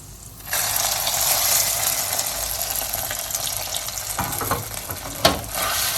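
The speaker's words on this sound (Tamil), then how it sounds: "முந்திரியை போட்டு நல்லா பொன்னிறமாக வறுத்துருங்க." Cashews frying in ghee in a pan for pooranam kozhukattai, a steady close sizzle that starts suddenly, with a few scraping stirs and a sharp clatter near the end.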